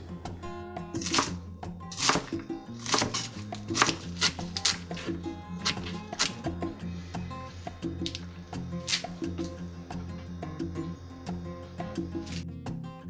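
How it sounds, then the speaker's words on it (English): A knife cuts beet greens into thin strips on a cutting board, giving a run of crisp, quick chops in an uneven rhythm with small pauses, close and clear. "Now continue cutting the rest of the greens into thin strips."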